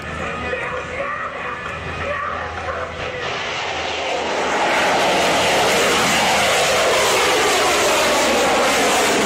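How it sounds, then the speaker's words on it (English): A plane takes off with rockets attached, its engine roar building from a rumble into a loud, dense, sustained blast that fills the clip. "This plane took off with help of rockets attached to it."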